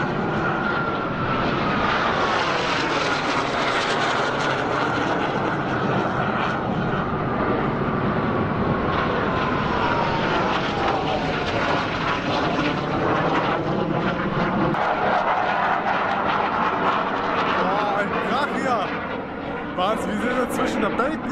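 Four fighter jets pass overhead near San Francisco's Pier 39 between the Bay Bridge and the Golden Gate Bridge, a loud continuous roar filling the whole stretch, with a sweeping engine tone rising and falling as they cross.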